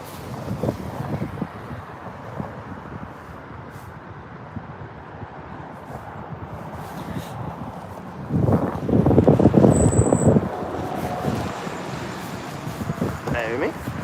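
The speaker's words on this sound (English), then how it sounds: "A bit windy, a bit cold today." Wind buffets the microphone at London Heathrow airport on a cold day, a steady rumble that swells louder for a few seconds midway, with distant traffic underneath.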